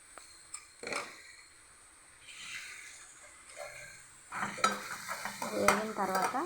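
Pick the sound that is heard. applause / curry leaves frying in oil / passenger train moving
curry leaves frying in oil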